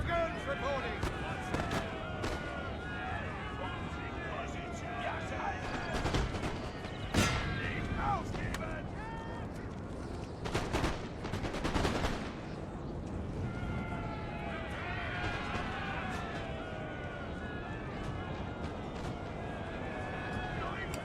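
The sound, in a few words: musket and cannon gunfire in Napoleon: Total War video game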